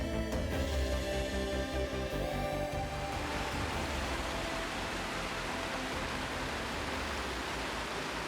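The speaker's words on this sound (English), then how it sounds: "a short boardwalk trail will provide incredible views of these rushing waterfalls" Rushing waterfalls at Sandstone Falls on the New River in West Virginia make a steady, dense, even roar, heard from a boardwalk after some tonal music fades out over the first few seconds.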